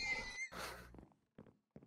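A horse in a video game gives a quiet, shrill whinny, then two brief snorts separated by short silences.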